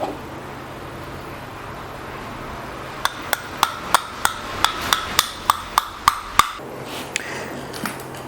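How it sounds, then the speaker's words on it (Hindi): Metal hammer taps drive a cotter pin into the disc brake housing of a Suzuki GS150 motorcycle, about a dozen sharp, evenly spaced strikes ringing out close by over a low background hum. "इसको हैमर की मदद से इंसर्ट करना पड़ा।"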